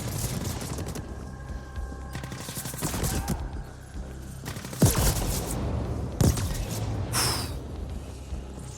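Rapid gunfire bursts and heavy thumping shots from the futuristic shooter video game The Ascent, dense and continuous with a few louder impacts standing out.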